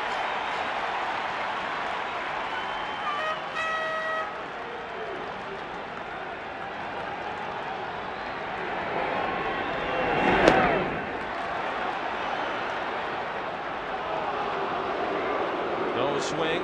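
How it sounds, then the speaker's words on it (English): A raucous baseball crowd fills the Veterans Stadium stands during Game 6 of the 1993 NLCS between the Braves and Phillies, a steady roar with a brief louder swell midway, under a play-by-play announcer's voice. "It is a raucous crowd already here at the Vet."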